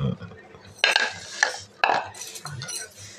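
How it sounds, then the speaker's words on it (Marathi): Flour dough for ladi pav mixed in a bowl, with several sharp clinks and scrapes of a utensil against the dish amid softer wet stirring, close and uneven. "मिक्स करून घ्यायचं आहे."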